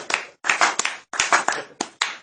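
A church congregation clapping in rhythm, sharp bursts of many hands in quick groups separated by short pauses, close and fairly loud.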